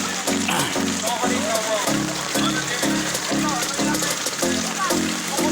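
Typhoon rain, easing slightly, patters steadily on a surface nearby, a constant wash of drops under a repeating low rhythmic hum, with no voices.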